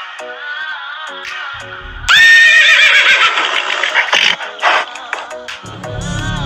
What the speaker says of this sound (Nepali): कहाँबाट आयो यो घोडा?